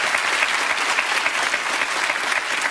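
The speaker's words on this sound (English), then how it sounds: "Let's give her a round of applause just for all that work already." A studio audience applauds on a quiz show, a dense, steady clapping that fills the whole stretch at moderate loudness.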